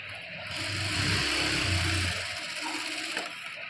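A sewing machine stitches saree fabric for a designer lehenga in one close, whirring burst lasting under two seconds, then slows and stops, leaving a quieter tail, with no talking.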